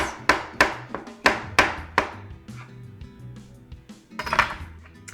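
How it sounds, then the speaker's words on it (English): A knife slicing fresh mushrooms on a cutting board, with about six crisp chops in an even rhythm, then a pause and a short burst of further cuts, close and fairly loud. "I'm going to slice up some mushrooms"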